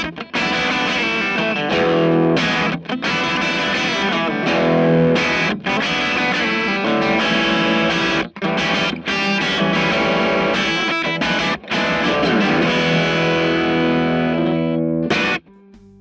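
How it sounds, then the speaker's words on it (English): An electric guitar played through a cranked-up tube amp roars with thick overdriven distortion, sustained chords and riffs ringing loud and dense for the whole stretch, with a few short gaps before the last chord cuts off near the end. "that's the hallmark of a cranked up tube amp"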